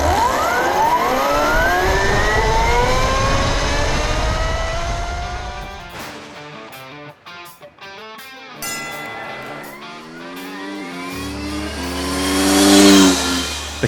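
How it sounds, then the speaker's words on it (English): An electric supermoto motorcycle accelerates hard with a rising, whining motor pitch that climbs repeatedly, cuts out briefly, then builds again to a loud high whine near the end. "The fastest accelerating supermoto in the world has a new sound."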